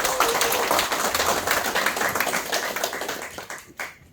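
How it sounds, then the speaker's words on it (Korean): A crowd at a political rally welcoming party leader candidate Song Young-gil applauds with dense, sustained clapping that fades out near the end, with no talk over it. "하여튼 다시 한번 송영길 당대표 큰 박수로 부탁드립니다"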